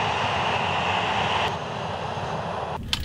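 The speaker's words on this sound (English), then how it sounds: "Look at this plane taking off." An airplane takes off nearby, a loud steady roar of engine noise that eases slightly midway and carries on as a broad rumbling hiss, with no talk over it.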